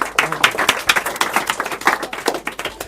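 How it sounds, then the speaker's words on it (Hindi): Class 10 students in an offline history batch clap together in a steady, fairly rhythmic run of close, sharp claps, with voices mixed in. "थोड़ा सा करके ताली बजाना है"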